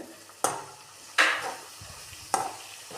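Chopped onions for a chicken stew fry quietly in a pan, broken by three sharp bursts of stirring or sizzling spaced across the clip.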